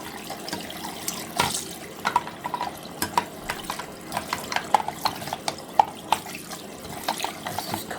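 Cold tap water runs over a magnetic filter part from a central heating system as it is washed in a sink, with clinks and splashes scattered through a steady stream.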